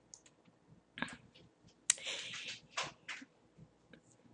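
Computer mouse clicks while navigating an online class website: three or four sharp, quiet clicks spaced about a second apart over faint room hiss.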